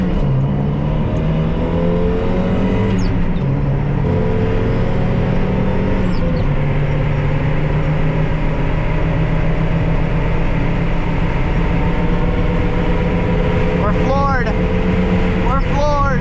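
Mazda Miata engine pulling hard at full throttle, a loud, sustained drone from inside the car that rises and shifts pitch under continuous road and wind noise.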